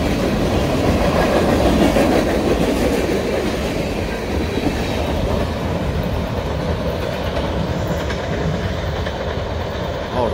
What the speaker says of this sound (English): I like those big auto parts boxcars.